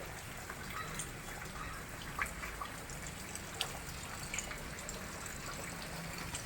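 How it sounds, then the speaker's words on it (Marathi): Steady rain falls in a continuous wash, with occasional drips and splashes breaking through, fairly faint with no voices over it. "पाऊस पडतोय"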